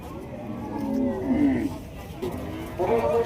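Cattle mooing nearby at a bull market in Rajshahi: one long low moo, then a shorter one starting at the end, over a murmuring outdoor background.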